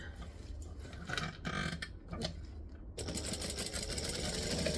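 Sewing machine running up one side of a seam without back stitching, a steady close mechanical hum with some rattling texture throughout.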